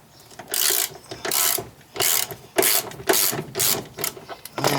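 A socket ratchet loosens the door hinge bolt on a Dodge D100 pickup truck. Short, close bursts of rapid clicking repeat about seven times, with small pauses between the strokes.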